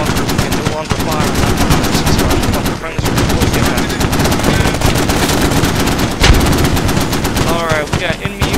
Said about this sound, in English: 50 cal, concentrate fire on my attack marker.